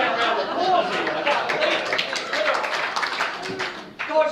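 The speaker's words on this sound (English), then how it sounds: "Give this man a round of applause here." A fundraiser audience breaks into a dense round of applause, steady and fairly loud across the room, with chatter and a little laughter mixed in beneath it.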